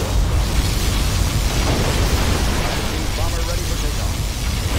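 Particle cannon blast in Command & Conquer Generals: Zero Hour, a dense, steady roaring rumble of explosion-like noise that holds loud and continuous throughout, with game voice talk running over it.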